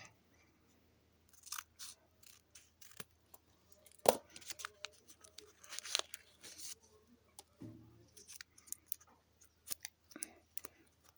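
A strawberry sticker package is torn open up close, giving quiet, irregular crinkles, rustles and small crisp snaps scattered across the stretch.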